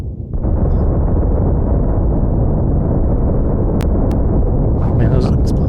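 Spaceship combat explosions in The Last Starship video game, a dense continuous low rumble of blasts with a few sharp high pops near the end, under a speaking voice.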